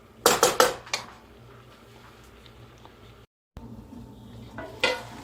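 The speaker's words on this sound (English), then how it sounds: "So I'm going to put the lid on that, and we're just going to let that saute in there." A lid is set onto a pan of chicken and vegetable stir fry as it sautés, giving a quick cluster of three sharp metallic clanks up close, followed by a low, steady sizzle and a single later clatter.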